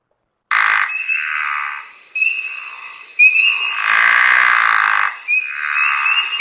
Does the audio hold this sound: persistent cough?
no